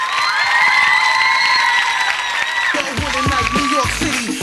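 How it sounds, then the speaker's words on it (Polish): An audience at a children's Eurovision-style concert in a Polish radio studio applauds and cheers over a sustained musical tone, with shouts and voices rising near the end. "Gorące brawa!"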